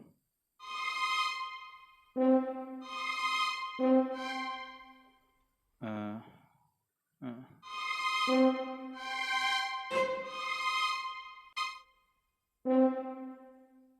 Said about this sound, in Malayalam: ഹോൺ കൊടുക്കാം.